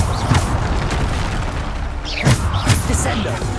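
The Bombardo spell explodes in Hogwarts Legacy amid constant dense combat noise. Booming low impacts and bursts stand out around the middle, and voices are present throughout.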